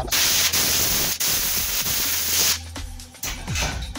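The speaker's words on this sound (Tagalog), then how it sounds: "Spray natin para alisin natin yung mga" Water spray washing out a printing stencil for cylindrical printing, a steady broad hissing rush that runs loud for about two and a half seconds, then breaks into choppier, intermittent bursts.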